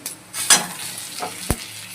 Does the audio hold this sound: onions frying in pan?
yes